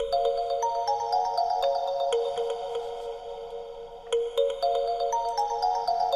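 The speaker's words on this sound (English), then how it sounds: "is a simple wave sequence based on a kalimba 2." Korg Wavestate synth preset built on a kalimba-based wave sequence, bright plucked tuned notes repeating in a looping melodic pattern, clear and close with ringing overtones.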